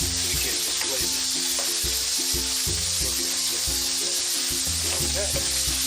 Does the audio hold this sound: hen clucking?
no